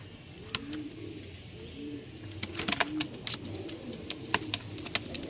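Several fancy pigeons coo in low rolling phrases at close range, joined by sharp clicks, chirps and occasional wing flutters in a loft.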